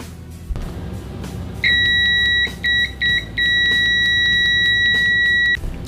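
A MASTFUYI FY8233 multimeter with Probe Master leads gives a loud, steady continuity beep in several bursts with short gaps, then one long sustained tone, over a low background rumble.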